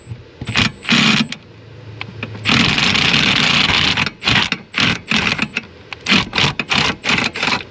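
A wrench works loose a brake master cylinder nut in the cramped engine bay of a 2002-2006 Tahoe or Suburban with a 5.3 LS, giving bursts of sharp ratcheting clicks, a longer rasping run, then rapid repeated clicks, close and alone.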